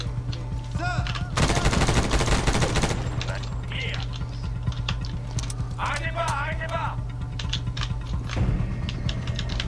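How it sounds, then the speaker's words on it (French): Gunfire in the video game Medal of Honor, played at maximum difficulty: a loud burst of automatic fire followed by scattered shots and game effects, with someone talking over the action. "On a un qui tire encore par là"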